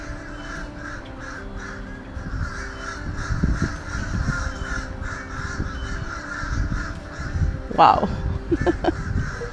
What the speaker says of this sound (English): The birds are really chirpy today.